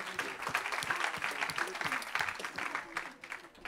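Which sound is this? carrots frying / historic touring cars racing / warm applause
warm applause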